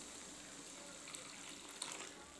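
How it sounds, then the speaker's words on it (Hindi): Hot water pours steadily into a pan of spiced fresh green pea dal, a soft continuous splashing gush heard close and alone, with a couple of brief louder splashes. "अब इसी पर हम डाल लेते हैं गरम पानी"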